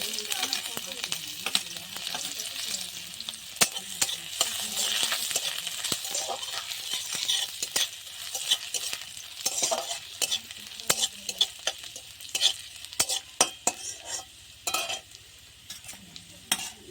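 Chopped garlic and ginger frying in mustard oil in a pan, a bright crackling sizzle with frequent sharp scrapes and clinks of a spoon stirring, close and fairly loud.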